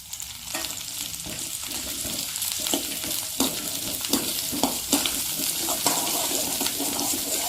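Garlic sautés lightly in oil for a garlic chutney, with a steady bubbling sizzle and repeated spoon stirs scraping the pan close by.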